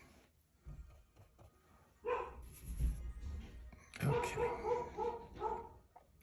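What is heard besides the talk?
dog barking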